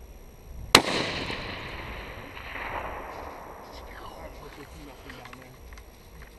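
A single sharp gunshot fired at a target outdoors, with a loud, sudden crack followed by a long, fading echo rolling away across open ground, as people talk quietly nearby.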